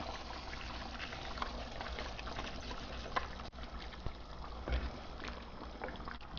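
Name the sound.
water boiling for biryani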